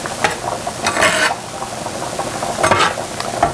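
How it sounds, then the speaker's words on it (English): Thyme and oregano stirred into a Marsala pan sauce off the heat, a spoon scraping the pan in a few short bursts over a soft background sizzle, with no talking. "I'm going to add my thyme and oregano. And I'm going to stir that"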